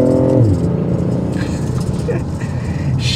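A BMW i8 plug-in hybrid convertible accelerates with a rising engine note and a steady rushing whir heard from inside the car, with a voice talking over it.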